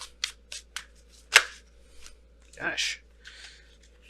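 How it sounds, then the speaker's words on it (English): Tarot cards being shuffled by hand, a run of light riffling flicks and slaps close by, with a brief spoken exclamation partway through. "All cards kept coming flipping out."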